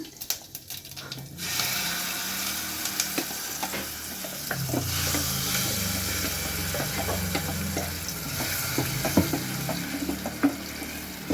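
Ground masala dropped with mustard seeds and curry leaves into hot oil for a greens bassaru, giving a dense continuous sizzle with crackles and stirring scrapes after a brief quieter start.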